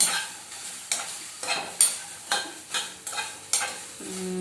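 Cauliflower palya frying in a pan, stirred with a series of regular scraping strokes about every half second over a soft sizzle, close and fairly loud, with no voices.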